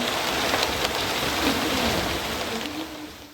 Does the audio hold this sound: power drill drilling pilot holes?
no